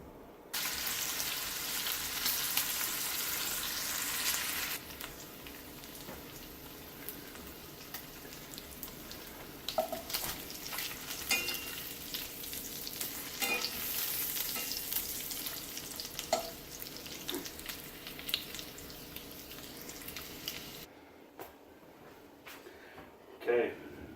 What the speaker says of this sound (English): Okay, so we got the bacon fried up.